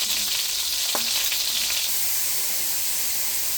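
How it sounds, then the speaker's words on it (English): Onions sautéing in a skillet of sausage grease while gravy is being made give a steady, loud, close frying hiss. A single brief clink sounds near the start. "And then I'll put the onions in and saute the onions."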